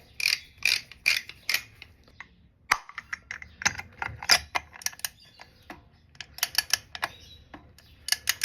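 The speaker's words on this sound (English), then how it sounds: "let's adjust my wrench again to 11 Newton meters." Torque wrench on a BMW R1100GS motorcycle being reset, a run of close, crisp ratcheting clicks in uneven bursts with short pauses between them.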